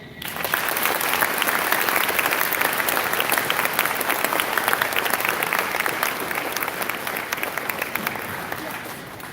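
Sustained applause from a high school assembly audience in a gym or auditorium, dense steady clapping from many hands that holds strong for the whole stretch and tapers slightly at the end.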